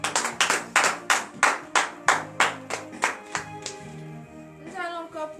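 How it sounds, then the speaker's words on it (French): Rhythmic clapping at a morning prayer service in Benin, a steady beat of sharp claps from a group, loud at first and then fading as singing voices rise. "levez-vous sur vos pieds et donnez de vives acclamations à l'Éternel"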